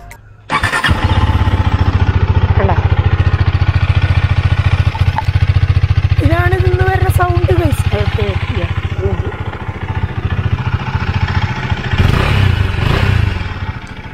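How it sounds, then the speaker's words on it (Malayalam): A motorcycle engine starts up and idles loudly, then revs several times in rising, falling bursts before settling back to a steady idle. "ഇതിൻ്റെ സൗണ്ട് ഒന്ന് കേൾപ്പിക്കാട്ടോ എഞ്ചിൻ്റെ കേട്ടോ"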